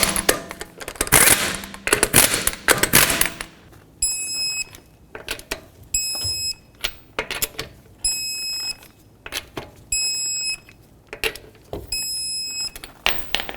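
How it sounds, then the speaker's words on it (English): Lug nuts go back onto a wheel of an Acura TL, with fast repeated ratcheting and clicking bursts in several short runs separated by pauses, close and fairly loud. "Get the wheel on, start on all 5 of your lug nuts, bottom them out, and torque them to 80 foot-pounds."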